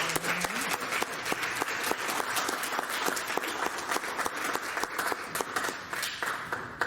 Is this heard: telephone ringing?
no